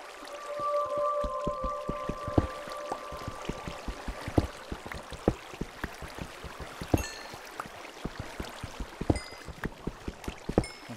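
Water trickles and drips steadily in a Minecraft world, a soft continuous flow broken by frequent sharp clicks and small splashy taps, with a few brief tonal blips from the game over the top.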